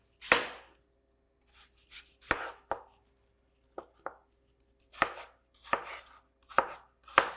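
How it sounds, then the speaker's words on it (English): A knife cuts an apple into small equal cubes on a board, giving about ten sharp, close chopping knocks in an uneven rhythm with short pauses between them. "Cut your apple into equal size cubes."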